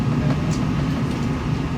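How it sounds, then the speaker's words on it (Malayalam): A train pulls out of Oslo station, heard from inside a quiet silent-zone passenger coach. It gives a low, steady rumble with faint rolling noise and no talking. "ഓസ്ലോ സ്റ്റേഷനിൽ നിന്നും ട്രെയിൻ പുറപ്പെട്ടു കഴിഞ്ഞു"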